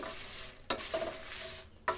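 Curry leaves frying and sizzling in a pan, with a steady hiss broken by a couple of sharp stirring scrapes, close and alone.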